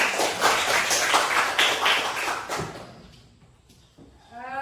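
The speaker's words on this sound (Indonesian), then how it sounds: "Tepuk tangan dulu untuk temannya." Classroom students clapping for a classmate, a burst of brisk hand claps that fades out after about three seconds, leaving a quiet room with a brief sound near the end.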